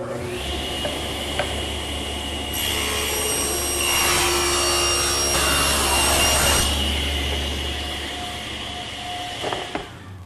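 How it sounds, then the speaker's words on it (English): A stationary saw rips and cross-cuts solid wood panels, its motor whining steadily while the blade bites through the wood for several seconds, loud and close, before easing back to a run. "to cut them, I'll just use my stationary saw"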